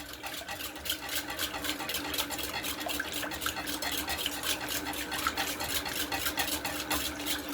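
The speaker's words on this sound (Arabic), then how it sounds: "هنفضل نقلب في الخليط بتاعنا ده لغايه ما كله يتجانس مع بعضه" Butter pastry mixture being stirred steadily, a continuous close rhythm of quick soft scraping strokes against a bowl with no voices.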